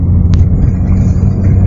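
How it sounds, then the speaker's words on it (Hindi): A car engine labors up a steep hill on the road to Chamb waterfall in Kashmir, giving a loud, close, steady low rumble with no talk. "गाड़ी बहुत जोर लगा रही है"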